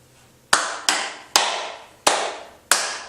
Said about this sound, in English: Basically just clapping to sync the video together.